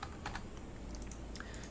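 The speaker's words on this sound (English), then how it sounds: "I'm typing too quickly" Fast, light typing on a computer keyboard, a quick run of close clicking keystrokes with brief gaps between them and no voices.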